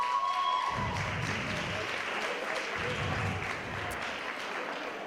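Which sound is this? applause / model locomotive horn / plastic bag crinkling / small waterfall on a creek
applause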